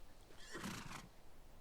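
A horse in a video game whinnies, a single rising-and-falling neigh of about a second near the middle, fairly close and alone over faint ambient background.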